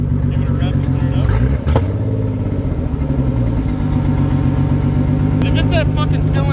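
A Nissan 300ZX engine rumbles loud and close with a rough, uneven idle, rising in a brief rev near the middle before settling back, with a voice speaking over it.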